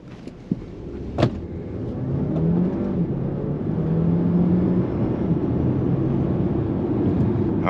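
A 2024 Dodge Hornet R/T Plus Blacktop EAWD accelerates in sport mode, starting with a few sharp clicks and then a rising motor whine and drone that swells steadily from inside the car.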